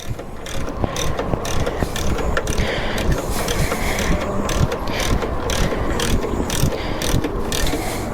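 A ratchet clicks rapidly and continuously while backing bolts out of a luggage rack on a Triumph T120 motorcycle, a dense, loud, close mechanical chatter with steady rhythm throughout.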